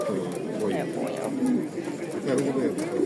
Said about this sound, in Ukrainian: Тут одні голуби осталось. Одні самці. Голуби.